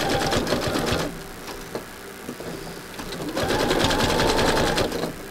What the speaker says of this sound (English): because you are sewing through the fabric and the rope